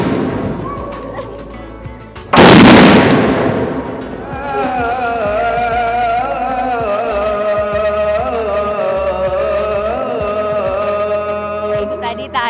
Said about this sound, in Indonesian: Sebentar lagi kita akan mendengarkan meriam ini dibunyikan.